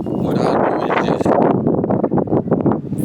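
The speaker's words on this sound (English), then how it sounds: "It's real windy down here, man, so y'all might get a little bit of wind in y'all ear." Heavy wind buffets the microphone outdoors on a breezy day, a loud, continuous rumbling roar with gusty swells and no voice over it.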